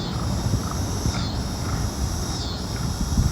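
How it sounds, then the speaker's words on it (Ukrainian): A harsh bird call screeches repeatedly from a tree over steady outdoor ambience, with a few rasping cries rising above the background. "Це птиця орет, птиця. Оце так вона оре."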